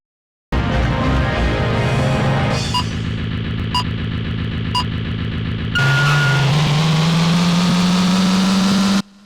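Motorbike engine noise from Kamen Rider: The Bike Race racing game, a steady droning engine that rises in pitch as the bike accelerates, with a few short electronic chimes partway through, alone without talk.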